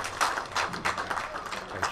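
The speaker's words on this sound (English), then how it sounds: "As you hear the applause from the audience" Audience applause at a professional nine-ball billiards match, a steady wash of clapping hands spread across the whole moment at moderate level with no one speaking.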